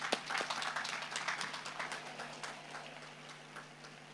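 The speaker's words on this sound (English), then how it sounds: "hand of applause, everybody" Audience at a Dominica State College graduation ceremony giving a round of applause: scattered, fairly quiet clapping that thins out over a few seconds.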